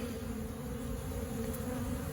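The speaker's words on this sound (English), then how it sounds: "Bees are, you know, they're amazing creatures." Honey bees buzz steadily around a hive, a close, continuous droning hum that holds at an even level throughout.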